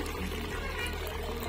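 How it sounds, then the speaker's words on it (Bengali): Water being slowly poured off settled cornflour that was made from potatoes, a faint, steady trickle and splash, heard close up and alone. "এভাবে করে লাহে লাহে ফেলে দিব"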